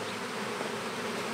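Honeybees buzz steadily at the entrance of a nucleus colony hive, a dense, continuous hum close by with no talking.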